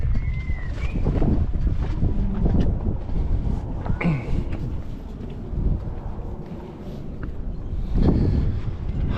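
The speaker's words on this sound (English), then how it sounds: "The nor'easter's blowing its head off out here" Strong nor'easter wind blowing across a moored boat, gusty rumbling buffeting against the microphone with surges and lulls, loud and close throughout.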